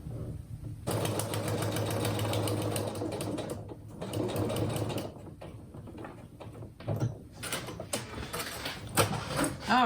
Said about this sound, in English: run it on through the sewing machine